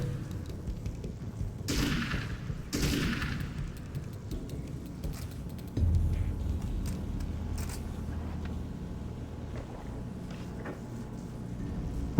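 Gunshots from a weapon in the video game Alan Wake's American Nightmare, a few sharp booming reports standing out over a steady rumbling game background, moderately loud.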